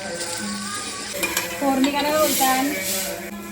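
Hot oil crackles and sizzles close by as something is stirred, with metal scraping against a pan and a few clinks; no talking.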